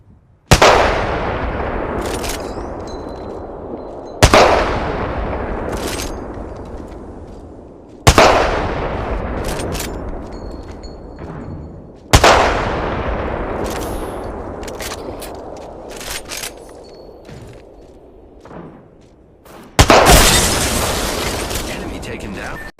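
Apex Legends gunfire rings out as heavy sniper and shotgun blasts, five loud booming shots spaced several seconds apart, each trailing off in a long echoing decay.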